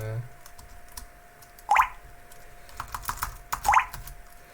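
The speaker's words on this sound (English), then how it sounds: "Then you have to type in your admin password for this machine" Keys tap on a computer keyboard in two short bursts of clicks a couple of seconds apart, fairly faint and close, against a quiet room with a low steady hum.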